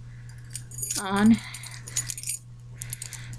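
House keys jangle on a Hello Kitty lanyard, a brief close metallic rattle and clink in the middle of the clip, with a person speaking before and after.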